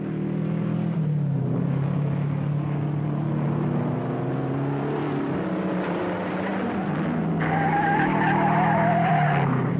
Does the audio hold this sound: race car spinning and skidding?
yes